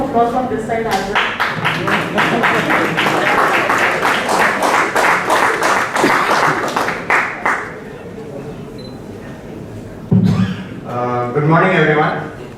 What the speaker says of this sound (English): Round of applause from this side as well.